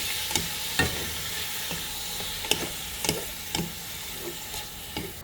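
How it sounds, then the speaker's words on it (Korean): Sliced beef stir-frying in a little oil in a pan over a gas flame, a steady sizzle broken by repeated scraping and clacking of a utensil at an uneven rhythm, close and moderately loud, with no talking. "이제 소고기 다 썰었으면은 이거 이제 가스불에 이제 볶을 거예요."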